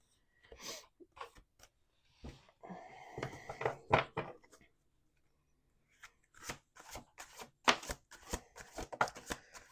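Tarot cards are shuffled by hand in close, crisp bursts of riffling and flicking, two separate runs of rapid snaps with a pause between them.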